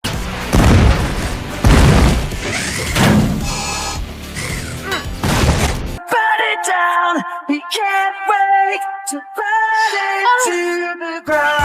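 Loud cartoon action montage of booming explosions and crashing impacts for about six seconds, then giving way to a bright orchestral score with sustained tones and no blasts.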